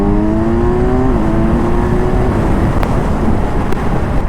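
A Kawasaki Ninja 1000SX inline-four sport motorcycle pulls hard under acceleration, its engine tone rising smoothly over steady loud road and wind rush, with no talking.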